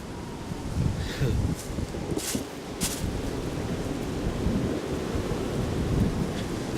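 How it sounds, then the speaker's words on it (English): High winds roar and buffet steadily across a backyard where an old pine tree has fallen, a broad, continuous rushing with gusty swells and rustling, buffeting hard against the microphone, with no voices. "As y'all can see, it's pretty windy out here"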